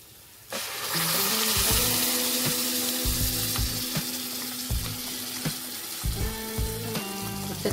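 Spinach puree hitting hot oil in a pan for palak paneer, setting off a loud, steady sizzle that fills the clip, with scattered clinks and scrapes of stirring and utensils throughout.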